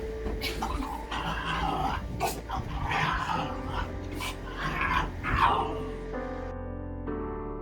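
A French bulldog grunts and snorts in short bursts while playing indoors on a bed, close and moderately loud, with a few yips and growly noises.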